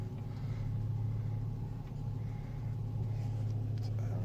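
A car pulling away just after being shifted into drive following a new floor shifter cable install, a low steady engine rumble close by, fairly quiet with no clear revving.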